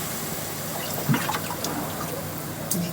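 Water trickles and splashes steadily into a cooking pot over measured rice, a soft continuous pour with a few small clinks, close by and without talking.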